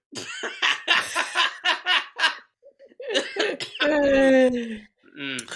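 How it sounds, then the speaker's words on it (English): Several hoarse coughs come in a close burst, mixed with laughter and throat clearing, with someone talking before and after. "We come back with the sounds of my coughing after hitting a bowl."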